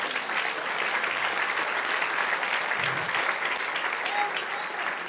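Church congregation applauding together during a Spanish-language sermon service, a steady dense wash of clapping that holds evenly throughout, with no speech over it.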